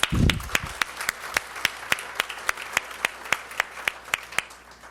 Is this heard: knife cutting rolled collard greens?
no